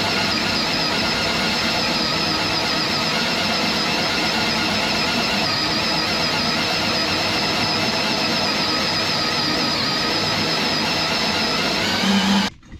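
A drill grinds steadily into three layers of steel on a Yanmar mini excavator, a loud continuous whine with a high squealing edge, running unbroken before abruptly stopping.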